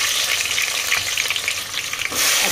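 Chopped onions frying in hot oil for chicken biryani, a steady dense crackling sizzle that holds throughout with small spits and a brief dip near the end, no voices.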